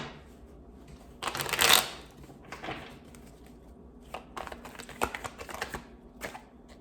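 Tarot cards are shuffled up close with a quick riffling burst, followed by softer scattered flicks and taps of the deck, quiet and mostly alone outdoors.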